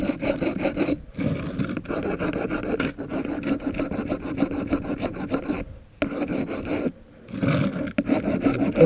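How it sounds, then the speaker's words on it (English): A rub brick scrubs over brick surfaces during a patio corner repair, a steady close rasping grind in long strokes, broken by a few short pauses where the stone lifts away. "I guess they call it a rub brick, but you can use a wire brush"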